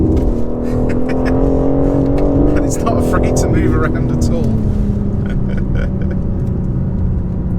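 A 2020 BMW M4 Competition engine drones loudly under acceleration, with a continuous rising and falling tone through gear changes as the car drives, while someone talks over it from inside the cabin.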